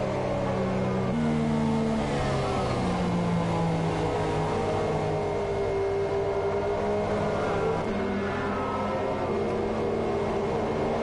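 F1 car engine in a racing video game on a formation lap, a steady high-pitched drone held in high gears with gentle pitch shifts and overlapping engine tones, continuous and loud.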